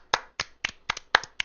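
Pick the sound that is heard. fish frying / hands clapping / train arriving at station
hands clapping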